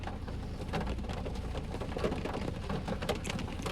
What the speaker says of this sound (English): Really rainy out.